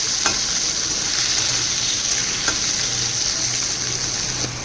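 Fish fries in hot oil with a little salt, giving a loud, continuous close-up sizzle with faint intermittent clicks and no speech over it.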